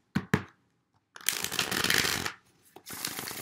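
Tarot cards are tapped twice, then riffled and shuffled in a long close rush, followed by another brief shuffle.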